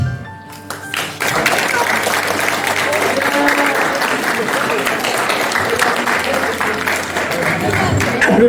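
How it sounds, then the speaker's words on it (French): Wedding guests applauding at a ceremony in Dampierre-sur-Salon, loud dense clapping that bursts in after a short quiet opening and stays full and close to the end. "Applaudissements pour Alexandra"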